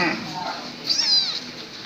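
A mother cat that has just given birth lets out one clear, fairly loud meow about midway through, over a soft background murmur.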